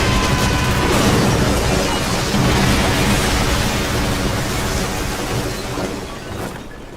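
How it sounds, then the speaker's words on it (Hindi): Anime sound effect of a dark cascade exploding in another space: a loud, sustained roaring rumble that holds for several seconds and then fades slightly toward the end, with no speech. "दूसरे स्पेस में डार्क कास्केड का विस्फोट हुआ"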